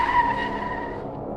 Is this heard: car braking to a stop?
yes